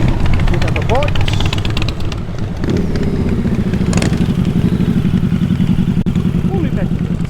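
Motorcycles at a Penrith Cars Under the Stars car meet, a loud steady engine rumble idling nearby with a revving burst around the middle, while people talk over it.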